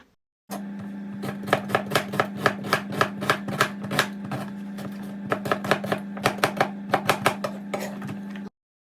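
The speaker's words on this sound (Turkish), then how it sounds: "maydanozumu doğruyorum" A knife chops parsley rapidly and rhythmically on a cutting board in two long bursts of quick, crisp strokes over a steady background hum.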